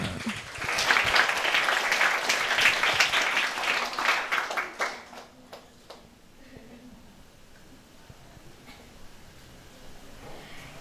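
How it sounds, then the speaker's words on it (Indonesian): An audience at an evening talk gathering bursts into loud, dense applause that holds steady for about five seconds, then fades into a quieter room murmur. "mari kita sambut dengan tepukan yang meriah"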